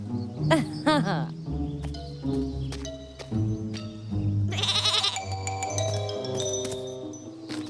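Goats bleat in a series of wavering, nasal cries, some close and loud, others overlapping in the background, mixed with a soundtrack-style score and brief rustling.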